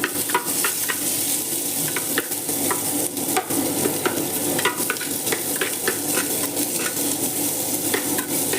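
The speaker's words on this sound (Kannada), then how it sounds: "ಒಂಜಿ ಕಂಡೆ ನೀರುಳ್ಳಿ ಫ್ರೈ ಆವಾಡು ಅಂತ ಎಣ್ಣೆಲ್ಲ ಪಾಡಿಯ ತುಪ್ಪದೊಟ್ಟಿಗೂ" Onions frying in ghee in a pan, a steady dense sizzle with frequent spoon-stirring scrapes and clicks throughout, close and fairly loud, no talking.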